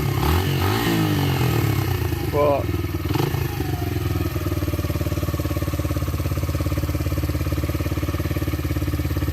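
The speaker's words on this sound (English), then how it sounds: "you can hear a little bit of wear from the engine" A Lexmoto Adrenaline 125 motorcycle engine runs close by with a steady, loud idling chug after a brief rev at the start, showing slight engine wear, while someone talks over it.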